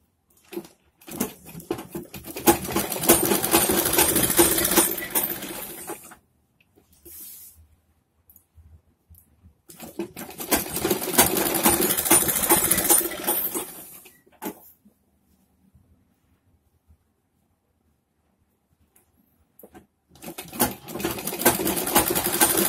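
A sewing machine stitches a churidar pajami in two long loud whirring runs of rapid needle clatter, separated by quiet pauses with small handling clicks, then starts up again at the end.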